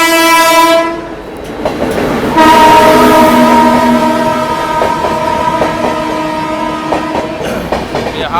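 The Bihar Sampark Kranti express, bound from New Delhi to Darbhanga, overtakes on the rails. Loud horn blasts sound twice in quick succession over rhythmic wheel clatter that continues as the train passes close by.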